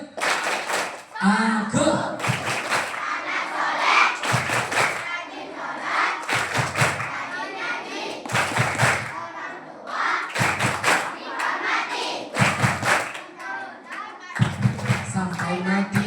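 Schoolchildren at an Isra Mi'raj event at an elementary school clap the rhythmic 'tepuk anak soleh' chant, with sharp bursts of unison claps and thumps alternating with chanted children's voices, loud and close, repeated through the sequence.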